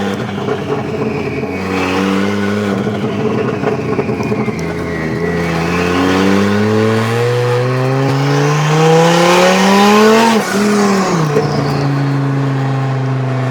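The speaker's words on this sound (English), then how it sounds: "We're gonna go and go for a little test drive, make sure everything is good with the car." A modified street car out on a test drive, its engine climbing through repeated revs and gear changes, rising pitch swells up to a loud peak near the end before easing back, close and steady with no talk.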